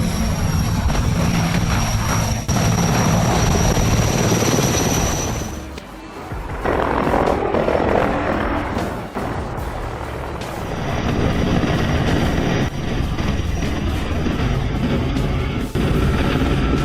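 CH-53 military helicopters flying during a U.S. Marine Corps tactical assault exercise, a loud continuous rotor and engine roar that dips briefly near the middle before resuming at full strength.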